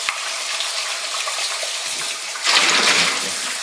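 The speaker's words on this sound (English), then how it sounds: "I'm gonna wash them one more time to get all the extra starch" Cut potatoes rinsed under a running tap, a steady broadband rush of water that grows louder and brighter toward the end, with no voices.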